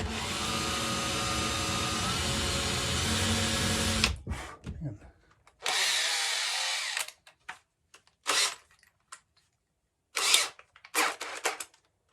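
A power drill whirs continuously for several seconds, then drills holes into a ski for mounting bindings in a series of short bursts separated by pauses.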